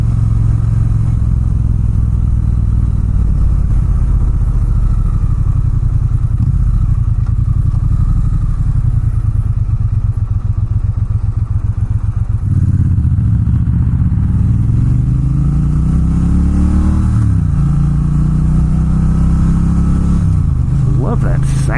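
Triumph Bonneville T120 Gold Line motorcycle idling with a low, steady engine rumble, then revving in rising and falling sweeps, close and loud throughout.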